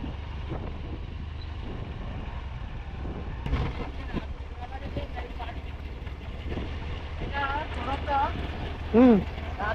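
Low, steady engine rumble from a car driving a hill road between Darjeeling, Lamahata and Siliguri, with wind buffeting, brief higher tones near the end and voices in the background.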